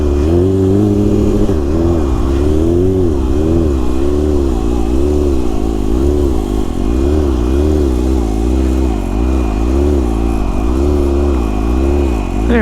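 A stunt motorcycle engine idles high and loud up close, its pitch wavering as the throttle rises and falls in repeated revs.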